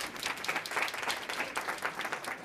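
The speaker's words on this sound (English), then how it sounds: "Let's give her a round of applause." An audience claps steadily, a dense wash of many hands applauding throughout with no voices over it.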